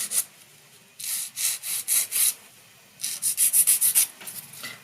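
A 180 grit file rasps across fingernails in two quick bursts of rapid back-and-forth strokes, close and distinct, with a brief pause between the sets.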